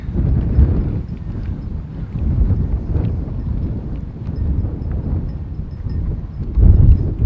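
Outdoors beside a narrowboat, a breeze buffets the microphone with a continuous low, rumbling roar that swells and eases in gusts, louder near the end, with no talking.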